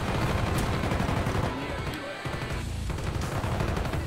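Sustained automatic gunfire from Call of Duty Black Ops, a dense rapid string of shots filling the whole stretch with a brief dip midway, loud and close with no talk over it.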